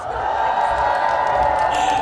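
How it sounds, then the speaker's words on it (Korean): Festival crowd at a spring cherry-blossom picnic festival letting out a sustained, loud roar of cheering and shouting, steady and dense for the whole stretch without clapping. "소리 한 번만 크게 질러주십시오!"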